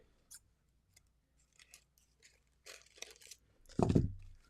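Scissors cut through paper for a junk journal, several faint snips and rustles followed by a louder crunching cut near the end, close up in a quiet room.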